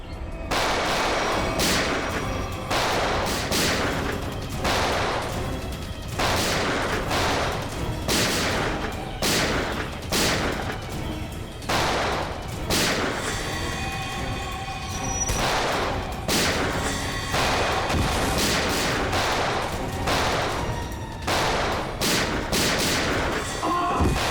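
Dense, rapid bursts of gunfire from a TV crime drama shootout crack loudly and nearly nonstop, with overlapping shots and volleys for the whole stretch.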